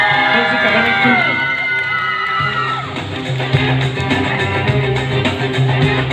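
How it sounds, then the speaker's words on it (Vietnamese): A crowd at a Hmong cultural award ceremony in Vietnam cheers, shouts and claps loudly, with music and voices layered underneath throughout. "Nổi tràng vỗ tay thật lớn hơn nữa nè quý vị"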